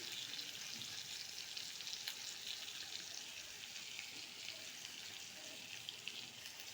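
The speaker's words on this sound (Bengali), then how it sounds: "এবার তেলে টমেটোগুলোকে ছেড়ে নিচ্ছি।" Tomatoes with turmeric and cumin powder frying in oil for a fish-head cabbage dish, a faint, steady hiss of sizzling that carries on evenly throughout without any speech.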